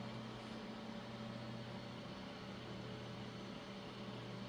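An old hard drive spinning up as it boots, a steady low hum with a few sustained tones, constant and unbroken, heard close with no talking.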